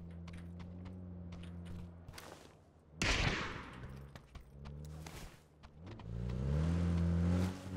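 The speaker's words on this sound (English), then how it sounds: "Two vehicles moving." Two vehicles driving in a video game, a steady engine hum with shifting pitch that rises into revving near the end, broken by a sharp crash and scattered gunshot-like cracks.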